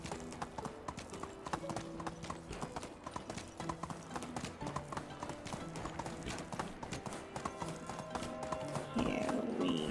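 Horse hooves clip-clop steadily at a brisk walking pace in the Medieval Dynasty video game, close and clear over a soft ambient music bed, with a faint whinny near the end.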